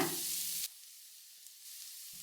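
A cup of finely chopped onion drops into a hot pan for a moong sprouts curry, giving a loud, steady sizzle that cuts off abruptly, then a quieter hiss before the frying swells again.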